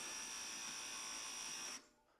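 A GMT400 truck's power seat motor whirs continuously at a steady high pitch, then cuts off abruptly, leaving a faint low rumble.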